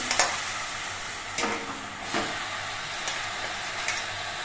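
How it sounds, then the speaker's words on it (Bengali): Malabar spinach steaming in a wok gives a soft, continuous hiss and sizzle, broken by a few sharp stirring scrapes and taps against the metal. "কড়াইয়ের মধ্যে পুঁই শাকগুলো দিয়ে দিচ্ছি"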